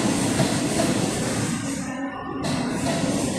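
A train at Kalyan railway station, heard from the station bridge as a loud, continuous rail rumble with a brief dip midway, with no talk.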